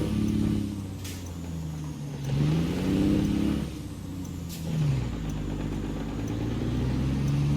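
A Mack R truck engine in American Truck Simulator grinds along in low gears, droning loud and near with its pitch rising through repeated revs, then dropping at each shift before climbing again.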